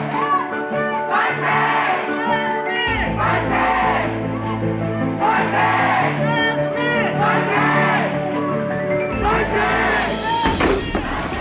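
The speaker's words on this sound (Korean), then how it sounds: "거대한 만세 함성에 일제는 당황했다" A large crowd shouting "manse" cheers for Korean independence in Pyongyang, with repeated loud surging bursts of massed voices and bellowing whoops rising and falling over a low rumble, close and dense throughout.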